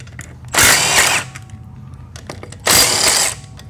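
A brushless 3/8-inch power ratchet runs in two loud, close bursts of high whirring buzz, each lasting under a second with a short pause between, in a workshop while a 1999 4L60e transmission is being worked on.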